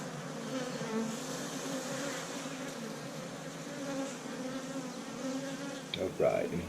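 Honey bees buzz in a dense, steady drone from an opened Apimaye hive, close and continuous, with a brief louder rustle near the end.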